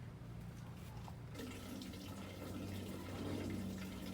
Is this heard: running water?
yes